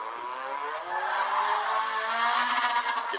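Race car engine in a racing video game on the VIR circuit, a steady high-pitched drone with rising revs and a faint tire squeal, sustained and fairly loud throughout.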